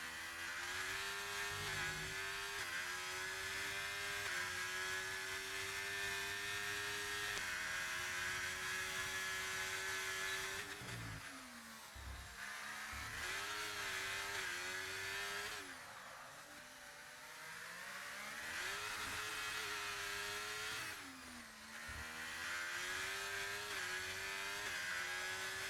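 On-board engine of an F1 car in F1 23 at the Singapore GP, a loud, continuous high-pitched whine that rises through the gears, dips sharply on downshifts and braking, then climbs again.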